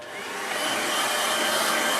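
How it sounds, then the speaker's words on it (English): A hairdryer blasting at a watercolour painting of Ullswater to dry it, a steady loud broadband roar that ramps up over the first half second and then holds constant, with no talking. "I'm going to quick blast with the hairdryer."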